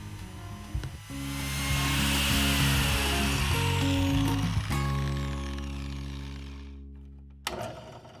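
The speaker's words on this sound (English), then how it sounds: "The biscuit joiner turns out to be a great tool for making the slot. You just have to plunge in on both sides of the board." A biscuit joiner plunges into a wooden board to cut a slot: the motor whirs up, holds a loud humming whine with a brief cutting rasp, then winds down and starts again near the end.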